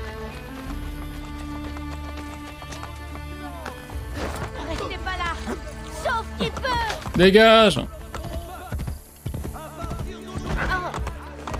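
A horse gallops in Assassin's Creed Brotherhood, rhythmic hoofbeats with a whinny mid-way, under game music and a voice speaking French.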